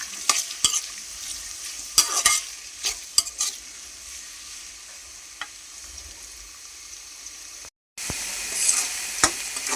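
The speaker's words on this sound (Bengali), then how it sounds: "পেঁয়াজটা আমি ভালো করে বাইজা নিব।" Chopped onions fry in oil in a wok while a spatula scrapes and stirs them, giving a steady soft sizzle broken by sharp clacking strokes. The sound cuts out briefly near the end, then comes back.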